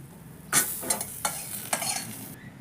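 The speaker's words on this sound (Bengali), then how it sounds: "আমার এই কালো জিরে, কাঁচা লঙ্কা আর রসুনটা আমার ড্রাই রোস্ট করা হয়ে গেছে" Black cumin seeds, green chilli and garlic are dry roasted in a pan, with four or five sharp scraping stirs and rattles over a faint background hiss, heard up close with no voices.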